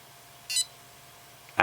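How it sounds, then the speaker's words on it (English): Hawkeye Firefly 4K split FPV/HD camera beeps while starting up: two short, clear electronic tones a second apart in a quiet room with faint background hum. "we've got 3 beeps there"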